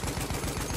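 Rapid automatic gunfire from the online shooter Battlefield 1, a quick string of closely spaced shots in a burst, loud and continuous with no talk.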